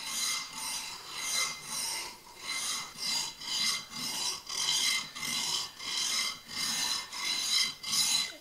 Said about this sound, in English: Just come over and give it a good sharpening.